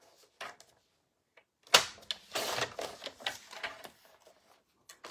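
A paper trimmer slices through card for a flower cart circle wreath card, giving a close, sharp series of short clicks and scraping cuts in quick bursts, with quiet pauses between.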